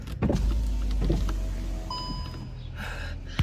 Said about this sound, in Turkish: Hemen camı açmalıyım.